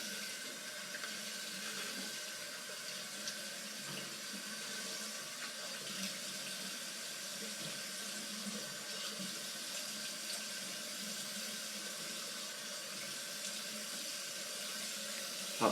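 Tap water running in a sink for a hot rinse after a straight razor shave, a faint, even hiss of flowing water that continues steadily throughout, with no talking.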